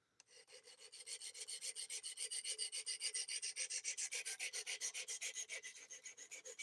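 A Grizzly single-speed belt grinder sands a knife edge at 300 grit, giving a steady raspy abrasive hiss broken into rapid rhythmic pulses as the blade passes over the belt, close and fairly faint, with no talk.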